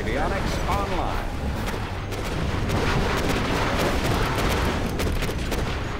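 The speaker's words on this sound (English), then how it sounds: "Particle cannon activated." A particle cannon superweapon firing in Command & Conquer Generals Zero Hour, a dense, continuous roar of blasts and crackling explosions, loud and sustained, with a game voice briefly speaking near the start.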